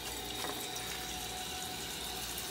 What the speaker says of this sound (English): See the water filling in the bowl?